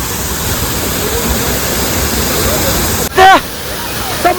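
A steady, full roar of falling water from a small waterfall at Raigad fort fills the scene, with a brief voice breaking in near the end.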